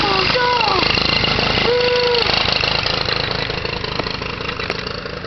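Dirt bike engine running nearby with a loud, steady idle and rising revs, its sputtering buzz continuous throughout; no clear talk.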